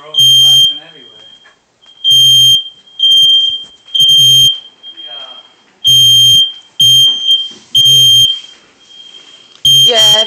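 A newly installed household smoke alarm keeps going off. Its loud, piercing electronic beeps come in repeated short bursts with brief gaps, while people talk nearby.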